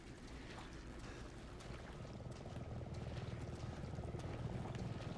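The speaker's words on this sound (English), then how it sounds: "It is a helicopter." A helicopter approaches over a bayou in the video game Resident Evil 7. Its low, steady rotor chop grows gradually louder against an ambient wind and water background.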